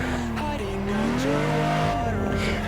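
A Nissan 350Z street car with a clutch mod is thrown into a handbrake drift at about 55 mph, its engine droning close and loud while a wavering tire squeal rises and bends in pitch.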